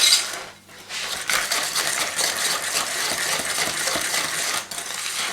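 A whisk beats eggs in a bowl for a candied fruit cake batter, making a steady, fast metallic clatter that pauses briefly near the start and then continues close and clear.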